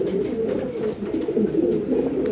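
An Iranian Togi pigeon coos nearby in a soft, steady run of low rolling calls, continuous over a faint background hum.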